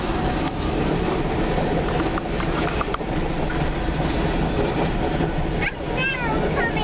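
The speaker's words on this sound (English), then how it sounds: "Oh, look how big the boxcars are." Heavy CN freight train boxcars roll past at close range in New Haven, Michigan, a steady loud rumble with faint rail clatter and a brief wheel squeal near the end, while people talk over it.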